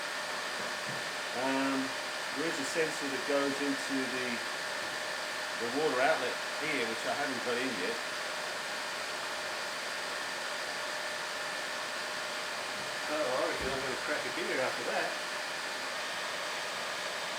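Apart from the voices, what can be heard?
Honda CX500 motorcycle radiator cooling fan running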